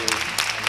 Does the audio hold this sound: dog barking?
no